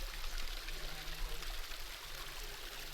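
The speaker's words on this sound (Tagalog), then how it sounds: "Running water." Water runs steadily in a stream in the Sierra Madre foothills, a close, continuous broadband rush and gurgle with no pauses, heard alone without voices.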